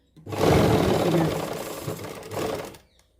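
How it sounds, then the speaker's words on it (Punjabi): A sewing machine stitches lace onto the hem of a suit. Its steady, loud mechanical whir runs for about two and a half seconds, then dips briefly and picks up again before stopping. "ਇੱਥੇ ਵੀ ਮਸ਼ੀਨ ਆਪਾਂ ਇੱਥੋਂ ਤੱਕ ਲੈ ਕੇ ਆਵਾਂਗੇ ਸਲਾਈ ਨੂੰ"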